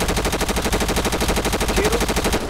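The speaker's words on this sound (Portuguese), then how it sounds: "Tiro." Automatic gunfire in the video game GTA 5 during a favela raid: a steady, rapid rattle of closely spaced shots that runs without pause at a strong, even level, with no talking.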